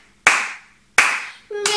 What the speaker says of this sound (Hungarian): Tapsoljunk hozzá ismét.